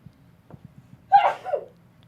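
A single sharp sneeze bursts out close by, preceded by faint rhythmic ticking in the background.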